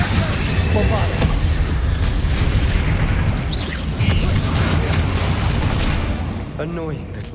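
A Bombarda spell explosion in the video game Hogwarts Legacy: a loud, dense booming blast that rumbles steadily for several seconds over a thick layer of game noise, with faint voice-like sounds mixed in.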